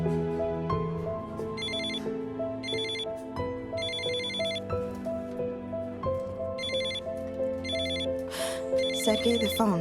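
A telephone ringing in repeated electronic ringtone bursts over a soft musical background, several evenly spaced rings across the stretch, fairly clear and close.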